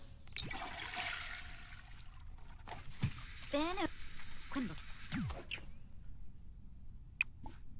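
Shower water running in The Sims 4, a steady broadband hiss of spray lasting throughout, with brief game interface chirps and clicks layered on top; no one speaks.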